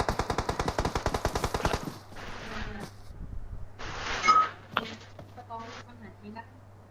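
Rapid video game gunfire rattles loudly in a dense automatic burst, then gives way to scattered shots and game effects while players talk over it.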